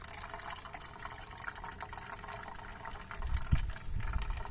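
Water drained from a motorbike's petrol tank into a bottle, a close trickling and splashing pour that grows heavier and more gurgling toward the end, with no talk over it.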